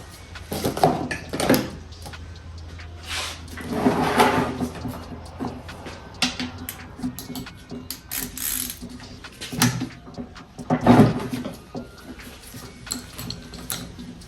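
A Honda H22 Prelude transmission casing with a limited-slip differential is worked loose and pulled off. Irregular metallic clunks, ratchety clicks and scraping come in scattered bursts at moderate level, with no talking.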